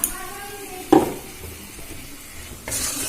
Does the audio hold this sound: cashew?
yes